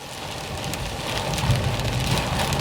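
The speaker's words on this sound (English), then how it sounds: "Heavy rains forced drivers to tread carefully on the roads" Heavy rain pours down during a storm with hail and flooded streets, a dense steady hiss of drops drumming on surfaces, loud and continuous with a low rumble beneath.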